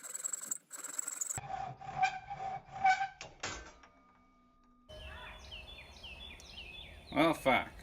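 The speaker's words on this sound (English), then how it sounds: "so we'll just hack this end off." A hand saw cuts the end off a wooden circle in a workshop. A short run of rasping strokes is heard close by, followed by quieter scraping and handling noises.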